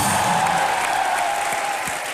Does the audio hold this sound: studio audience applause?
yes